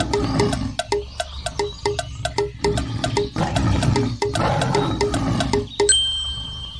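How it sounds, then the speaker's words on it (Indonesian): Cartoon tiger roaring for a children's animal-sounds lesson: a run of sharp, rhythmic roaring bursts with clinking accents, loud and close, ending on a sustained bright tone. "Harimau atau tiger?"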